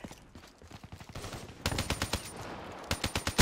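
Gunfire in Call of Duty: Black Ops III free-for-all, a series of sharp, rapid shots in clustered bursts, growing louder and closer partway through, with no talk over it.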